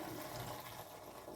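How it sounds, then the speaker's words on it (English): Cloudy, milky rinse water pours out of a saucepan of rice into a sink, a soft continuous splashing gush, quiet and close, with no one talking. "Then what I'll do is I will tip this water out"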